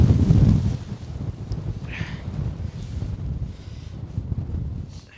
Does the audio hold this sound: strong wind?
yes